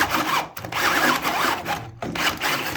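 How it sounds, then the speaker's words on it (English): A drill bores through a timber joist while first-fix plumbing pipework goes into a shower room. The grinding noise runs steadily, broken by two brief pauses as the bit bites into the wood. "I'll have to drill through this one"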